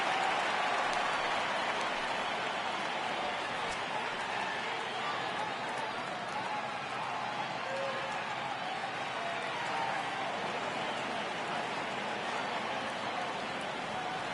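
A video game baseball crowd roars steadily on a full count, the broad cheering holding at an even level throughout.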